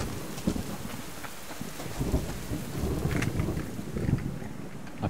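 Rain pours steadily in the Subsistence survival video game, a constant hiss of drops hitting the ground, with low thunder rumbles swelling in and out beneath it.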